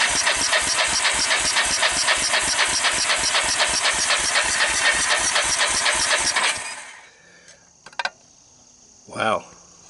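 A Kawasaki Bayou 300 ATV engine with low compression cranks over on a jump pack during a dry, cold compression test, giving a fast, even chugging rhythm for about six seconds before stopping, followed by a couple of faint clicks and a short hiss.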